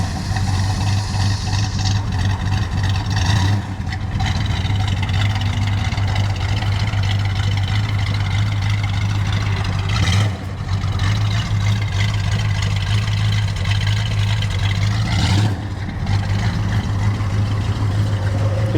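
A 1969 Plymouth Barracuda engine idles steadily and close by with a deep, throbbing rumble that stays even for the whole stretch, broken by a few faint clicks and bumps.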